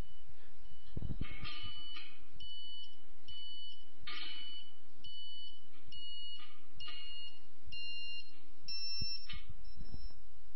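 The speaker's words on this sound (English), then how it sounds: "Until you hear the beeper level drop." Beeper tone from a KA-Sat satellite terminal's antenna pointing tool during installation: a series of short electronic beeps at shifting pitches, repeating over a low constant hum with occasional thumps.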